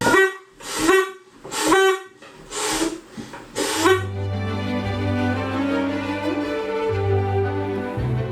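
Several short spoken bursts are followed by a long, loud, low blast from a handheld foghorn at a lookout, holding steady for about four seconds before cutting off.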